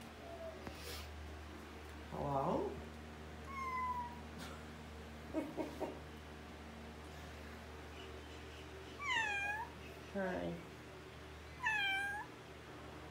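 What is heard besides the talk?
cat meowing, resident cat of an Airbnb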